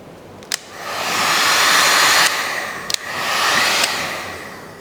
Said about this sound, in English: Apply a little heat to soften the vinyl.